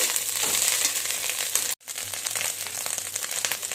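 Green chillies fry in hot oil with reddened dried shrimp, a dense, loud crackling sizzle that runs steadily with one brief cut of silence midway.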